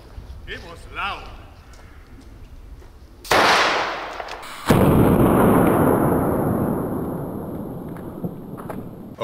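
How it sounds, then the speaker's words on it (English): A black powder musket-style shotgun fires with 25 grains of black powder: a single very loud blast bursts out sharply, followed moments later by a second booming report whose roar lingers and rumbles on for several seconds. "with 25 grain of black powder for this mighty shotgun"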